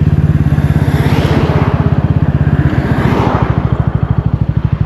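A Bajaj Pulsar N160 is ridden in fourth gear, its single-cylinder engine giving a loud, close, rapid pulsing thrum that holds steady with slight swells in pitch. No voices are heard.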